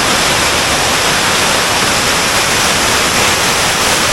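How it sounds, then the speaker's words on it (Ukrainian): Steady, loud rushing of a roadside waterfall in the Carpathian Mountains, a dense broadband roar of falling water that fills the whole clip without pause. "чую, шумить вода. Дивись, водопад"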